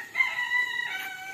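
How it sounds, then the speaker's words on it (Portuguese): On a rural farm plot, a rooster gives a single sustained crow, fairly close and clear over a quiet background, with no talk. "Ó, o cantar do galo, que bonito."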